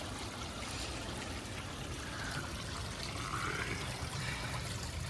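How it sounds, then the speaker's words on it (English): A small DIY garden pond waterfall spills over a log into a little stream, giving a steady, close, continuous trickle and splash of flowing water with no voices. "we've just got a very simple little waterfall over the log"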